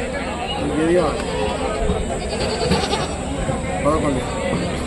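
Goats at the Rajarampalli livestock market cry out in a string of overlapping bleats, rising through a dense background of chatter and market bustle, with a few faint hoof clops.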